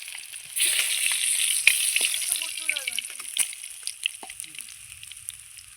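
Mirka fish fry in hot oil with a close, crackling sizzle and scattered pops and spatters that thin out toward the end, along with faint clinks.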